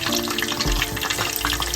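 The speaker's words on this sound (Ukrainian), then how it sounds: "і готуємо, смажимо до готовності" Catfish roe frying in a pan, a loud continuous sizzle and crackle of hot oil close by, with a stirring scrape partway through and no talking.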